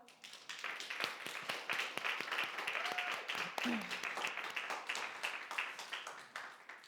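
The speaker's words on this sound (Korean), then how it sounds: "박수 한번 칠까요?" Audience applause at a church young adults worship service, a fairly faint but steady wash of many hands clapping, with a few voices and whoops mixed in throughout.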